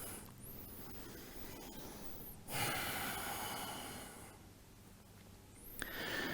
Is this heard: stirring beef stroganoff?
no